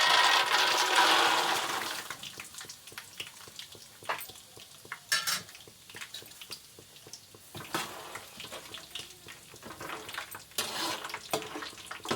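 Peanuts tipped into hot oil for chivda give a loud burst of sizzling, then quieter crackling and stirring clatter with intermittent pops and spoon scrapes in a home kitchen.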